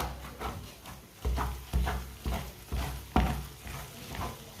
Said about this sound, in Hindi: इसी तरह इसे चम्मच चलाते हुए पकाना, चम्मच छोड़ना नहीं है